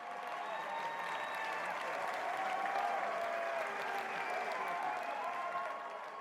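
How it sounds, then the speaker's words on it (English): An audience at a National Philanthropy Day award event gives a steady round of applause for the award winners, the clapping faint and somewhat distant, with a murmur of the crowd mixed in. "Please, let's give a round of applause to all of our award winners today"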